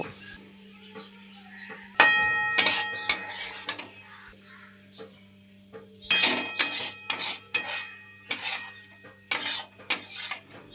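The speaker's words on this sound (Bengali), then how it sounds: "এবারে আমরা গ্যাসটা বন্ধ করে দেব এবং চচ্চড়িটা একটি পাত্রে ঢেলে নেব" Cauliflower-stem chorchori being tipped from a pan into a serving dish, with a run of sharp metallic clinks and scrapes of a utensil against cookware, starting after a quiet hum and coming in loud clustered bursts.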